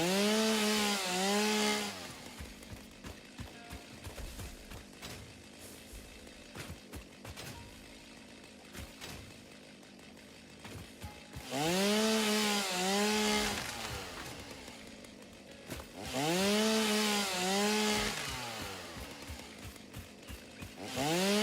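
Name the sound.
chainsaw cutting trees in video game Satisfactory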